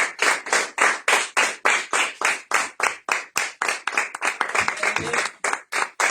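A church congregation claps in a steady, loud rhythm, around two dozen sharp claps over six seconds, with the beat loosening slightly toward the end and no voices rising above the clapping.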